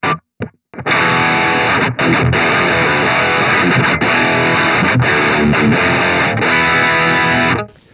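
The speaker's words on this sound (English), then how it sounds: "I'm already gonna make the decision to go for the 5-gain stage distortion" A heavily distorted electric guitar through a KSR Ceres preamp on its five-gain-stage distortion setting rings out loud and sustained after a few short muted plucks, held as one thick saturated wash before cutting off.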